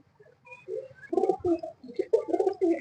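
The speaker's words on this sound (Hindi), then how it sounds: "ये उनके घर के कबूतर हैं" Domestic pigeons at a rooftop loft in Islamabad cooing in a run of soft, low, throaty bursts, close and clear, with faint chirps in the background.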